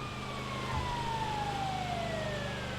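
A wailing ambulance siren in GTA V rises and falls in a steady sweep over the loud rumble of a driving engine, sounding close and continuous throughout.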